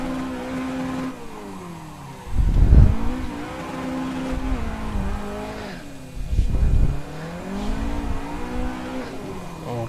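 A car drifting at full lock in the Assetto Corsa racing game: the engine drones and revs with rising and falling pitch while the tyres squeal steadily, with two louder surges of throttle along the way.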